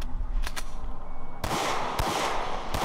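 Sharp gunshots from a real firearm fired by an airsoft player, a couple of faint distant pops followed by a louder, closer broadband blast and further repeated shots over steady background noise.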